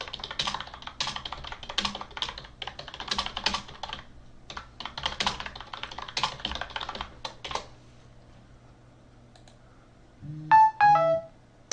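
Rapid keyboard typing clatters steadily for several seconds, then after a quiet pause a phone sounds a short two-part incoming text message alert, clear and close.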